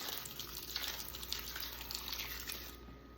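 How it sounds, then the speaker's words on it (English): Red wine pours into a pot as braising liquid for a chuck roast, a soft, steady splashing stream lasting about three seconds before it tapers off, quiet and close with no talking. "we're gonna add a little bit of red wine"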